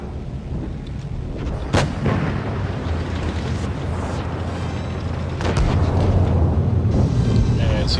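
Tank cannon fire in a video game, heavy booming blasts with a sharp shot near two seconds and another around five and a half, over a constant rumbling engine bed.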